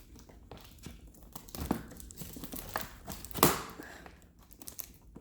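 Scissors snip plastic-coated twist ties on the packaging of a 1/10-scale 2005 Chrysler 300C remote-control car, with soft crinkling of the box, light taps and a few sharper cuts, all quiet and close.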